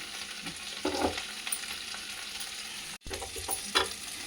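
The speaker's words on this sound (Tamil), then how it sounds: "நல்லா வதக்கணும்." Green chillies, ginger and tamarind sautéed in a pan, giving a soft steady sizzle with scraping stir strokes and a brief break near the end, fairly quiet and without talk.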